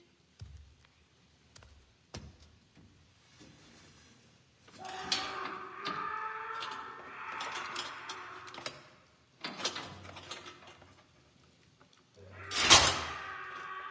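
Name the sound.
door being unlocked in video game Assassin's Creed 3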